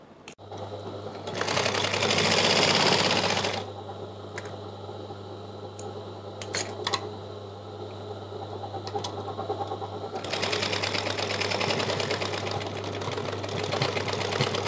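A sewing machine stitches a Punjabi dress top in two loud, whirring bursts, one early and one near the end. A steady low hum and a few small clicks fill the pause between them.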